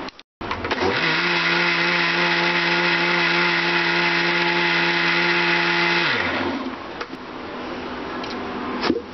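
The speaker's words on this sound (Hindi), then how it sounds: "ये देखिए हमने इसको दोबारा से भी मिक्सी में चला लिया है।" An electric kitchen mixer blends a date and banana shake, running with a steady loud whirring hum for about six seconds before the motor winds down and stops.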